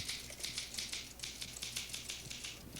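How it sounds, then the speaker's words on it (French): A typewriter clacks in quick, steady strokes, its crisp key strikes ringing out at an even office pace with nothing else heard. "Marie est secrétaire et elle a une machine à écrire."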